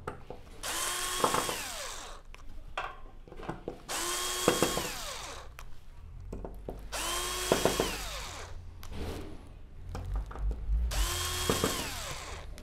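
A power driver backs out screws from the rear panel of a Sony XBR-75X900F television in four separate whirring bursts with quiet gaps and small handling clicks between them, close and distinct.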